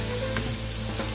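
Mushrooms frying in a pan while noodles with spinach are cooked, giving a steady close sizzle with a few faint stirring clicks over a short moment.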